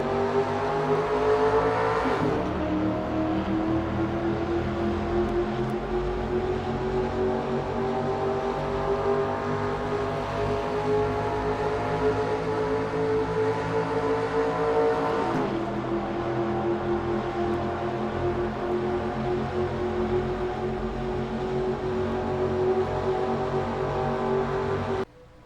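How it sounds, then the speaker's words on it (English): Onboard sound of a race car in an amateur oval-track race, the engine roaring loud and steady as it climbs up through the gears, with pitch rising and dropping at each shift. "Just listen to him get up through the gears."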